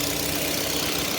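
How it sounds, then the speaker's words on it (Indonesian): A 2018 Mitsubishi Xpander Ultimate engine idles in a steady, smooth hum, even and continuous, close by, with no voices and no rough sounds. "Ini suara mesinnya halus, standar, normal, tidak ada suara-suara kasar."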